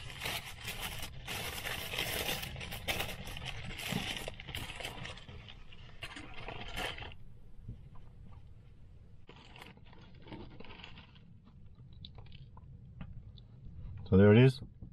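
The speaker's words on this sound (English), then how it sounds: "let's unwrap them." Papers rustle and crinkle as two Hungry Jack's Whopper Junior burgers are unwrapped from their wrappers, close and quiet, in scattered bursts. The sound thins out later, and a short loud voiced sound ends the clip.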